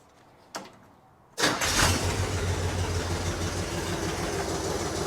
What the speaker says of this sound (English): Fires right up, idles like a champ.